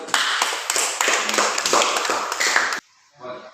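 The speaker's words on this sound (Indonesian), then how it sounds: "Tepuk tangan untuk kelompok satu." A class claps for group one after their presentation, a dense patter of hand claps close by that stops abruptly near the end, followed by a brief murmur.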